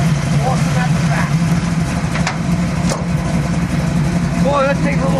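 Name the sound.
rebuilt 427 engine of 1967 Chevy Camaro SS running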